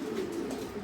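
Lahori pigeons coo in a steady, low, throaty drone that carries on without a break, fairly close and alone with no talk.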